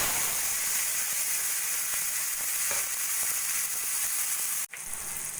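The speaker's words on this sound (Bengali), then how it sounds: "ওই তেলের মধ্যে দিয়ে দেবো কালো জিরে ফোড়ন ফোড়নটা একটু সোনালি হলে দিয়ে দেবো আমি কুচি নেওয়া পেঁয়াজ রসুন টমেটো আর কাঁচা লঙ্কা" Chopped onion, garlic, tomato and green chilli fry in hot oil with black cumin seeds, giving a steady loud sizzle throughout, briefly interrupted near the end.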